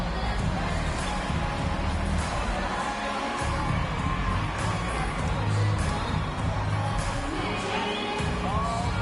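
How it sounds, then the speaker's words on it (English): At a Detroit Pistons basketball game, an arena crowd applauds and cheers steadily for the youth dance team, a dense, continuous roar of clapping and shouts. "Give a big round of applause for your Pistons youth dance team."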